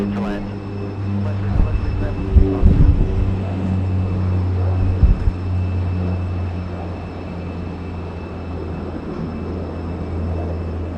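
A jet airliner lands on runway 34 left at Sydney Airport, its steady engine rumble and roar rising through a brief louder stretch before settling into a continuous drone.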